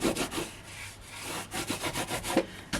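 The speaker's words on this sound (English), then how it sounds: "This is just the burnishing tool." A burnishing tool rubs and presses over a glued paper craft piece, producing soft repeated scratchy strokes, close and fairly quiet, in an uneven back-and-forth rhythm without talking.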